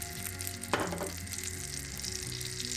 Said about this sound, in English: Just heat up some butter and olive oil or vegetable oil and add about a tablespoonful of dry mint